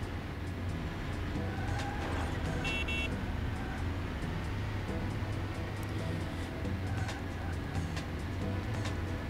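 Car engine drone from driving along city highways in the racing game Beetle Adventure Racing, a steady continuous hum with road noise throughout and a brief horn-like toot near the start.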